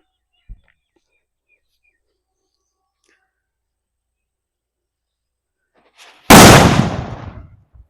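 A country firecracker (nattu kundu) set on the ground goes off with a single loud, sharp blast that decays over a second or so, preceded by near silence with a faint tap and a brief crackle.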